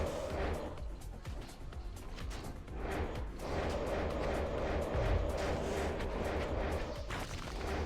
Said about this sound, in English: it's very much like Corpse Explosion-esque noise over and over again, just a little bit different